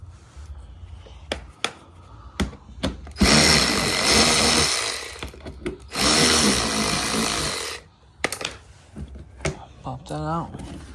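Power tool driving out a 10mm skid plate screw underneath an Infiniti G37, two long loud whirring bursts of several seconds each, separated and followed by sharp clanks and handling knocks close by.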